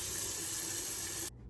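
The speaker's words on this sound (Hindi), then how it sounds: "सबसे पहले आलू को खुले पानी से वॉश करेंगे सही तरह" Tap water runs steadily into a sink while potatoes are washed for a kabab recipe, a loud, even gush that stops abruptly near the end.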